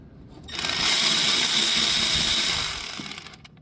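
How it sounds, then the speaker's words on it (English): A hand ratchet clicks rapidly and continuously while loosening a bolt on the expansion valve of a 2013 Nissan Rogue, a close, bright, even ratcheting burst that swells in and fades out. "You can see my ratchet is already there. Taking the two bolts out, there's one right there."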